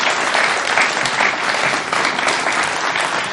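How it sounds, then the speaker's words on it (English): A symposium audience gives a sustained round of applause, dense, steady clapping filling the room for the whole stretch with no voices over it. "Can we give them a huge round of applause?"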